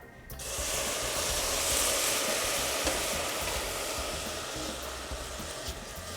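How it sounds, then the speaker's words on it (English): Warm stock ladled into a pan of risotto sizzles and hisses steadily, a continuous close, fairly loud frying sound with faint stirring throughout. "we're going to start adding our warm stock. So we're going to add it a ladle at a time"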